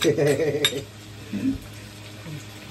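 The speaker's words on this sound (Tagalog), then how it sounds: "Ihulog na natin itong ating kamatis." Tomatoes drop into a cooking pan with a clattering rattle of metal and utensils at the start, then a brief knock and a quieter sizzle afterward.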